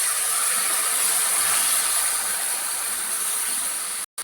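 Mustard gravy poured into hot oil over arranged hilsa fish pieces, giving a steady loud sizzling hiss that runs nearly unbroken before cutting off abruptly at the end.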